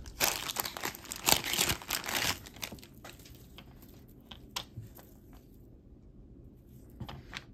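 A Chico's glass bead necklace is handled up close, with a dense burst of rattling and crinkling that thins out into scattered light clicks and taps.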